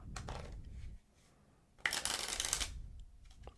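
Playing cards are riffled and shuffled at close range, with a short first riffle, a pause, then a longer, louder cascade of cards and a soft tap as they settle.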